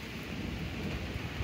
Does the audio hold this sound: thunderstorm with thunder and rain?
yes